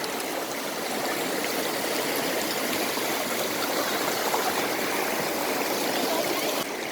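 Running water rushes steadily and continuously, a broad close-up hiss of the Kitimat River in Canada flowing near the Kitimat Bridge, with no other sounds.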